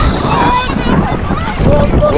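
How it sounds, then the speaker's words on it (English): Ocean waves and strong wind at a beach in Trinidad, loud continuous surf wash with heavy wind buffeting the microphone and faint voices mixed in. "There's a lot of waves."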